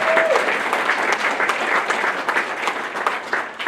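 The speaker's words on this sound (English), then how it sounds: "I want a round of applause for Barry Davis, Wisconsin." An audience at a hall-of-fame awards ceremony breaks into strong, sustained applause, a thick wall of many hands clapping at once that holds at a loud, steady level throughout.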